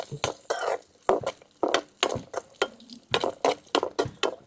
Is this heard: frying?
yes